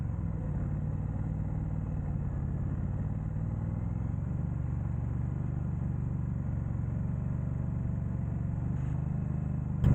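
A Triumph Bonneville Bobber 1200cc motorcycle engine rumbles steadily at idle or low revs, a continuous close, loud low drone with no break and no talking.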